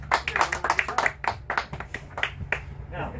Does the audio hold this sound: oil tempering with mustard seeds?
no